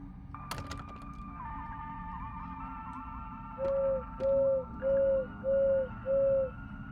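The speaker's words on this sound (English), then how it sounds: "Oh, he hoots 5 times." A bird in the video game Nerine hoots five times in an even, spaced rhythm, clear and prominent over soft ambient music and faint background tones.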